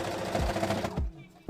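A sewing machine stitching a folded fabric casing for elastic on a strawberry dress, a rapid clattering run of stitches for about a second that stops abruptly, followed by a brief knock.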